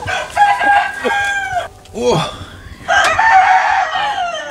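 A Shamo rooster crows loudly and close by, several drawn-out harmonic calls rising and falling, with a brief human exclamation over it.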